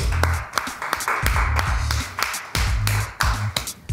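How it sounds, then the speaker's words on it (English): Several people clap in uneven, scattered bursts, close by, with a few brief pauses between rounds of claps. "Clap for Coco"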